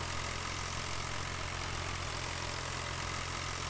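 Tractor engine idling in Farming Simulator 2013, a steady low drone with a faint periodic thrum, continuous and unchanging throughout, with no voices.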